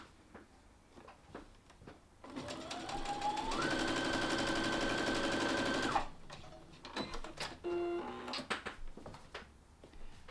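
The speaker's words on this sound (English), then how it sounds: "we're going to sew on one end with a 1/2 inch seam allowance" A sewing machine runs a seam through fabric for about four seconds. Its steady, fast, close whir speeds up partway through, with handling clicks and rustles before and after.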